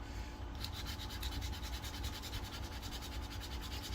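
Hand sanding with 220 grit sandpaper on a bass guitar build gives a steady, close, continuous scratching rub with a fast back-and-forth rhythm.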